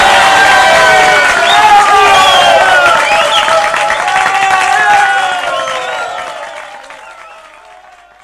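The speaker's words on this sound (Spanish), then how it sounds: "Fuerte el aplauso que a la vuelta." Loud audience applause mixed with cheering and crowd voices at a live comedy show, swelling briefly and then fading out toward the end.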